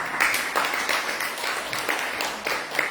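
A church congregation claps together, a steady dense patter of many hands with rhythmic peaks, sustained and fairly loud throughout.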